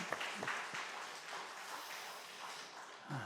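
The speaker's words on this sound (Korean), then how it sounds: "다시 한번 우리 큰 박수로 여러분 격려해 주시기 바랍니다" A church congregation at a Friday prayer meeting claps in encouragement, soft scattered applause with a few sharper individual claps, faint and fading over a few seconds.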